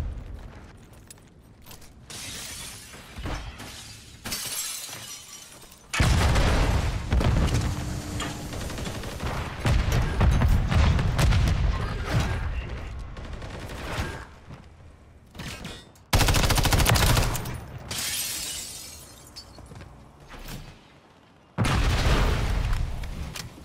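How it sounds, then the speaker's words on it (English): A bomb charge detonates during a Search and Destroy round in a first-person shooter game: several loud, heavy booming blasts, each a sudden broadband burst, separated by quieter stretches of distant gunfire and mechanical clatter. "Place the charge. Detonate the target."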